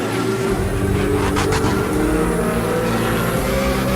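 Racing cars jostling and overtaking one another in a race: a loud, steady engine drone with layered humming tones, close and continuous, with a brief rising whine in the middle.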